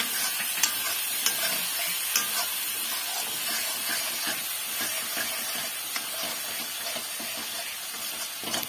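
Meat with garlic, onion and spices sautéing in a pan, a steady close sizzle and hiss with occasional scraping stirs and small clinks, no voices.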